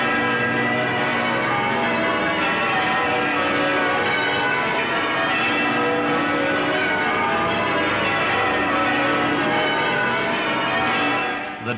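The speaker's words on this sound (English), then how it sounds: "The departure of their Majesties was signalled by the pealing of bells and a 41-gun salute fired from the Tower of London as well as in Hyde Park." Church bells peal continuously outside St. Paul's at the royal departure from the Festival of Britain opening, a dense, loud wash of overlapping rings filling the whole stretch with no break.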